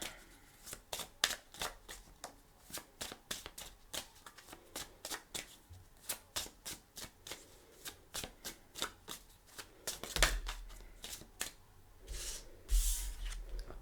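A tarot card deck being shuffled by hand, a long run of quick crisp riffling flicks and slaps in an uneven rhythm, close and fairly quiet, with a few heavier bumps near the end.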